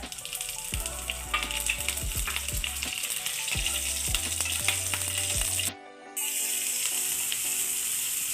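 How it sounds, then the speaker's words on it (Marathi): Mustard seeds and green chillies hit hot oil in a pan for shevaya upma, setting off a loud, close, steady sizzle with crackling pops that cuts out briefly near the end before resuming. "मोहरी टाकणार आहोत त्यानंतर हिरव्या मिरच्या"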